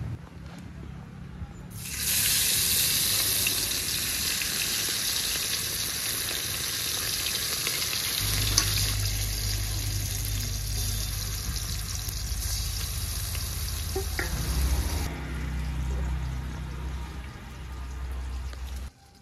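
Bata fish hisses and crackles in hot oil, a loud steady sizzle that starts abruptly and keeps on, with a low rumble underneath and no talking.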